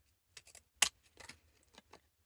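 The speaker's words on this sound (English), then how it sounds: "I've got these interesting looking decorative scissors, and just cut the bottom edge of this" Decorative scissors snip through the bottom edge of a paper tag: several short, close, crisp cutting clicks in a quick irregular series against a quiet background.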